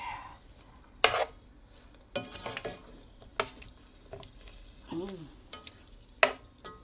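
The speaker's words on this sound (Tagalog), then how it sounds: "Mix natin. Ayan, mix. Ayan na yung liver." Beef liver cooking in oyster sauce in a pan, quiet sizzling under intermittent scrapes and clatters of a spatula stirring, a few louder knocks spread across the stretch, no talk.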